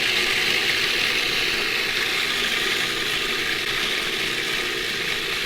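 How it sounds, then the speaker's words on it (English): A food processor runs continuously through a coarse grind of ingredients for Bajan pork chops, giving a loud, even mechanical whir and rattle of the blade and contents with no pauses or voices. "So let's load up the food processor"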